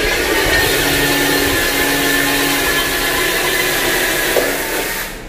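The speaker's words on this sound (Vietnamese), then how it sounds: "chúng ta sẽ khoan ở đây" Power drill boring a hole horizontally into the ground with a 16 mm bit for a garden irrigation pipe, a loud continuous whining motor drone held steady for about five seconds before cutting off.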